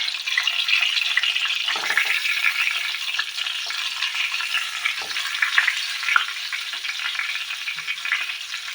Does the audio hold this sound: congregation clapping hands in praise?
no